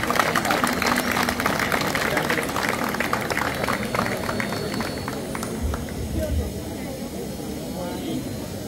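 Audience applause fills the room as a steady, loud, dense wash of clapping throughout, with voices mixed in under it.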